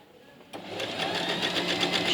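After a quiet half-second, a sewing machine starts up and runs at a steady, fast whir. It is stitching fabric ribs with the stitch length set to about 3, close and continuous to the end.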